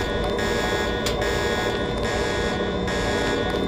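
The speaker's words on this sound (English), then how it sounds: "Get used to the alarm sound, by the way." Loud, continuous electronic alarm buzz in the video game Deus Ex, a steady harsh tone with brief rhythmic breaks, alone and close.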